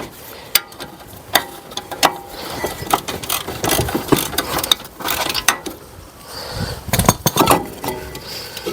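Ratchet working a brake caliper bolt loose on a 2017 Mercedes E220 during a brake disc and pad change, sharp metallic clicks and clanks in an irregular rhythm, close by, with no talking.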